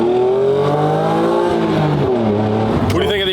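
Honda NSX with a V6 engine and aftermarket exhaust revving hard. The engine note is loud and close and climbs and falls in pitch, with a sharp transient near the end.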